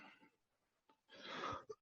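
A breathy exhale is followed by one abrupt, loud cough, close to the microphone, after a quiet stretch.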